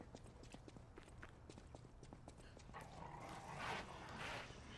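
A dog barks in the video game Lies of P amid quick pattering footsteps, fairly faint, then a louder rushing burst near the end.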